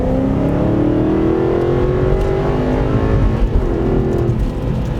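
An Aston Martin Vantage V8 pulls hard and revs, its engine note climbing steadily, loud and close in a continuous drone with no talking over it.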